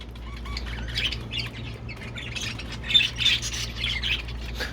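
Pet birds chirping and squawking while being fed boiled eggs, many overlapping high calls from a flock, moderately near over a steady low hum.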